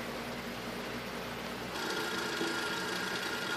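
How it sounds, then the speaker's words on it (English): A buffing wheel charged with wax spins against a wooden pipe's stem, a steady motor whir with a broadband hiss that thickens and grows slightly louder as the stem meets the wheel. "The buffing wheel with the wax."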